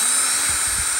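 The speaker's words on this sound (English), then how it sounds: "And now I'm going to" A power driver whines steadily while removing T10 screws from a Schlage BE365 keypad lock, a loud, close, continuous high-pitched motor drone with slight low pulses, and no talking.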